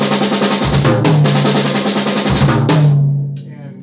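Drum set toms play an in-time double stroke rolling fill, a dense, fast stream of strokes with low tom accents and brief pauses, loud and close before ringing out.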